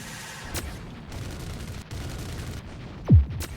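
Gunfire in the Roblox space game Galaxy, scattered distant shots and bursts under a low rumble, ending in one louder close blast with a falling boom.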